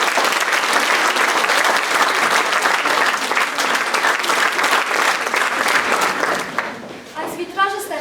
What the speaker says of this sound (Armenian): Դե հիմա եկեք ծափարենք կոմիտասին